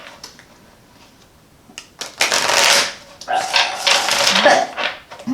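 A deck of tarot cards being shuffled up close, with loud riffling bursts that start and stop in uneven runs after a quiet opening.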